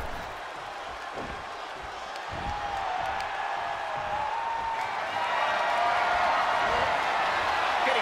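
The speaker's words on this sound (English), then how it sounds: "This crowd." A wrestling event crowd roars steadily, a broad wash of cheering and applause that swells louder over the span, with faint whistles and voices inside the din.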